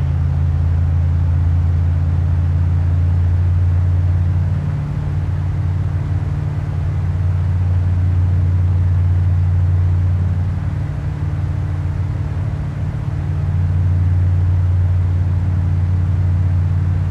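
Aircraft engine in Microsoft Flight, a steady low droning rumble held at nearly constant loudness throughout, with a slight dip and swell as the throttle is nudged, loud and close with no other sounds.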